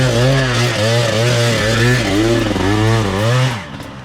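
Motorcycle engine held at full throttle while climbing a steep uphill road, loud and close, its pitch rising and falling in repeated surging waves before easing off at the end.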